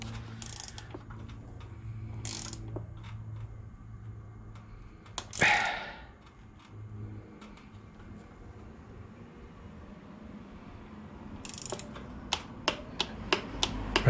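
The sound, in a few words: torque wrench clicking at set torque on bike seat post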